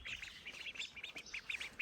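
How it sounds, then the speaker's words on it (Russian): Ducks quacking at a farmyard garden on a hot day, a faint, steady run of short nasal calls in quick succession, heard at a distance with no voices. "Утки."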